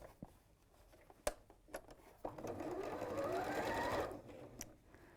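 Domestic sewing machine stitching a double-folded quarter-inch hem on fabric for a panel tee, a steady close motor whir rising and running for a couple of seconds after a few handling clicks.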